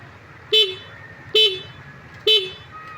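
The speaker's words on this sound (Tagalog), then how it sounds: "lakas yung busina" Three short horn honks from a Yamaha Mio scooter after it went through floodwater, spaced evenly about a second apart, loud and close over a low background rumble.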